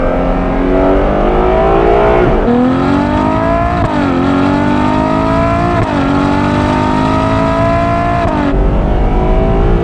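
A loud, high-revving Ferrari 812 Competizione V12 engine accelerates hard up through the gears, pitch climbing and dropping at each shift, close and continuous.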